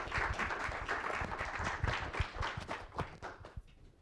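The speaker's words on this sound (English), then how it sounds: "So I think we can give him also again a big round of applause" A seated audience at an AI workshop gives a round of applause from a distance: fairly quiet, brisk scattered clapping that thins out and fades toward the end.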